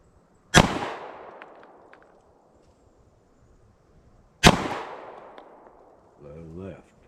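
Two loud, sharp gunshots crack at an outdoor shooting range about four seconds apart, each trailing off in a long echo, with a brief voice speaking just after the second.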